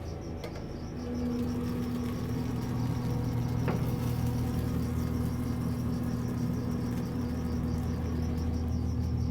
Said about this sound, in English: The crickets are singing.